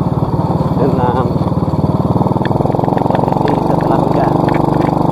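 Motorcycle riding along a village road in Desa Ciputih after heavy rain, its engine running steady and close throughout while someone talks over it.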